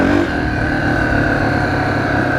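A dirt bike engine revs loudly and close by, a steady high-pitched drone that stays strong throughout with no talk.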